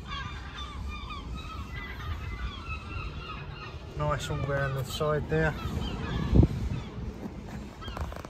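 Repeated loud gull calls ring out over a steady outdoor background, with someone speaking briefly and a sharp knock near the end.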